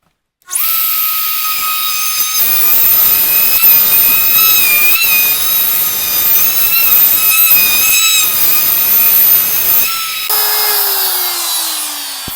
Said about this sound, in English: I've lowered my router bit down, maybe 1/8 of an inch or so to get started.